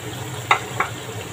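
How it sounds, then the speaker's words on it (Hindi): Tomatoes going into a pan of frying vegetables including aubergine and potato, a steady sizzle with two short sharp spatters as they drop in, close and alone. "ये देखें अब मैं इसके अंदर टमाटर डालूंगी"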